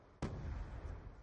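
A grenade explodes in Black Ops II with one sudden, fairly distant blast, followed by a second of rumbling noise.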